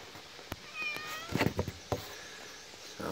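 A cat meows close by in a quiet backyard, a few short rising and falling cries between soft thumps and rustles.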